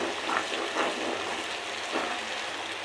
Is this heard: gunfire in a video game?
no